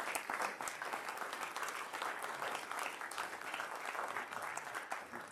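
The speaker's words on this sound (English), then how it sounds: "So give Kim a huge round of applause for that, by the way." Applause from an audience at a real estate investors' association meeting, a fairly faint, even wash of many hands clapping that holds steady for a few seconds.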